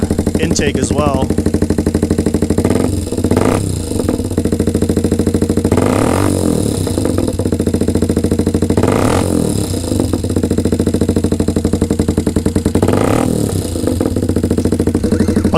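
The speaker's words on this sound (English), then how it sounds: "Do a couple of revs." Loud, close idle of a 2023 Honda Grom with a Toce exhaust and Chimera intake, broken by several quick throttle blips that surge the engine and fall back to a rattly, pulsing idle.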